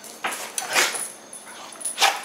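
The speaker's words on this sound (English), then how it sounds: "Whoa, the dogs are so excited." Excited pet dogs greeting their owners at home, giving close, short yips and whimpering whines in uneven bursts over a steady background hiss.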